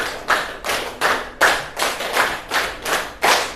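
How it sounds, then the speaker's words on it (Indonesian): A class of students gives a round of rhythmic applause, about nine evenly spaced bursts of clapping, loud and near with no voices over it. "Tepuk tangan buat kalian semuanya."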